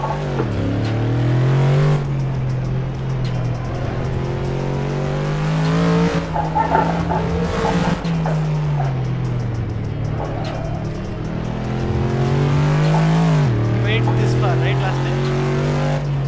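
A race car is driven hard up the Transfagarasan road in a game, the engine revving loud and close with rising and falling pitch and tire squeal, under a voice talking.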